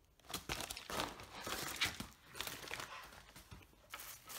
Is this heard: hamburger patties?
no